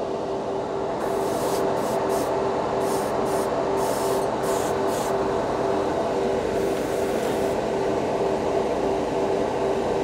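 An airbrush sprays Vallejo Premium paint, a steady close hiss with a constant tonal hum underneath, broken by several short brighter bursts of spray, with no voices.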